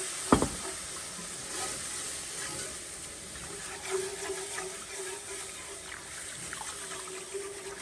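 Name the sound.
deglazing pan after searing beef, liquid sizzling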